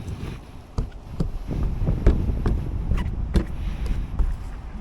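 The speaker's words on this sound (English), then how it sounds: "There's a little bit of wind today." Outdoor wind buffeting a microphone in gusty rumbling bursts, with several sharp knocks and clicks scattered through it and no speech.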